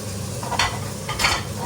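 Spinach and coriander going into a pan of frying vegetables in a home kitchen, with a steady close sizzle and two louder bursts of stirring scrapes.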